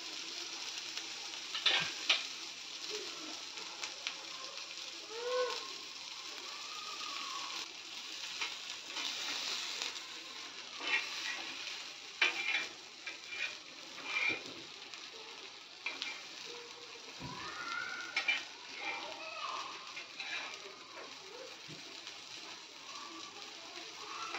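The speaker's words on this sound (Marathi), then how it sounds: "आणि मग नंतर आपण थोडासा गॅसची फ्लेम जास्त करून मग दोन्ही बाजूनी छान खरपूस भाजून घ्यायचं आहे आपल्याला" Stuffed bitter gourd (karela) roasts crisp in a pan over a raised gas flame, giving a quiet, steady sizzle broken by soft pops and occasional stirring clatter, with no speech.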